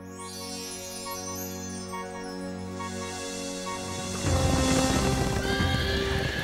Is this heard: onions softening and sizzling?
no